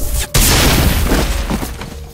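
A loud explosion in the video game Mass Effect bursts in sharply after a brief gap, followed by a sustained roaring, crackling blast that slowly tails off with a few debris-like thuds.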